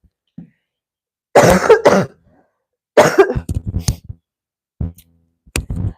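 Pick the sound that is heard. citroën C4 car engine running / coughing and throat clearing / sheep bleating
coughing and throat clearing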